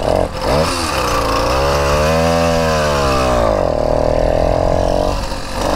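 A small motorcycle engine revs up and down loudly and close, its pitch rising, holding and falling over several seconds.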